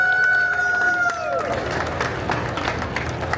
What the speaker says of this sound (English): Everybody, round of applause for Malorie Rodak